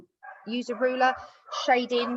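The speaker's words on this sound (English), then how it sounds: "Sorry, that's my dog." A pet dog barks and yips indoors in a home during a maths lesson, short bursts tangled with a person speaking over them.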